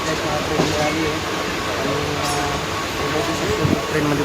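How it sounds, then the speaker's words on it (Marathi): Steady rumble and rattle inside a moving first-class suburban train car on the Mumbai rail network, continuous noise with faint clacks and no clear talk. "आणि ट्रेनमध्ये बसलेलो आहे फर्स्ट क्लासमध्ये"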